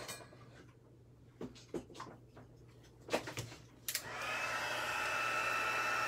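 A heat gun turns on partway through to emboss a whale-stamped card, its steady blowing roar starting after a few faint clicks and handling knocks and running loud and constant to the end.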